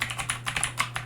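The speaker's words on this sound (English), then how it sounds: "I know it's a bugger on typing the big long things" Keys on a computer keyboard are typed in a quick, steady patter of crisp clicks, close and clear against a low constant hum, with no voices.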